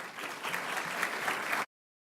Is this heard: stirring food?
no